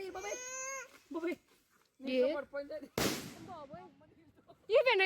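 One sharp, loud firecracker bang bursts out during the Nagula Chavithi festival, between bouts of young children crying and wailing nearby.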